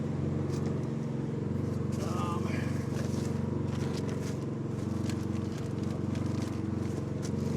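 A Suzuki LTZ 250 street quad idles up close with its airbox lid off, a low, throbbing engine hum that wavers slightly as the idle fluctuates, running steadily throughout.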